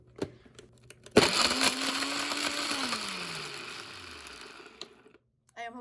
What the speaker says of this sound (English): I am hoping that I do not break my blender.